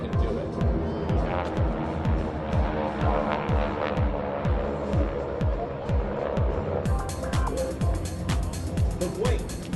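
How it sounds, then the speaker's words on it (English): A 600-horsepower supercharged 9-cylinder radial engine aircraft at an air show gives a loud, steady throbbing drone with a rhythmic pulsing beat, while an announcer talks over it. "use a 600 horsepower supercharged 9-cylinder radial engine"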